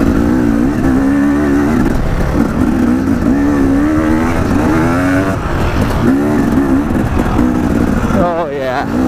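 A dirt bike engine revs and buzzes loudly nearby in a rising and falling whine, changing pitch as the rider accelerates, with faint voices now and then underneath.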